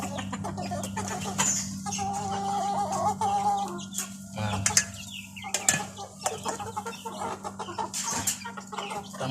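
A flock of chickens clucks repeatedly while eating feed from a container, with close, overlapping calls and some louder squawks over a low background hum.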